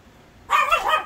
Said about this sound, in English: dogs have to start. They cannot be quiet.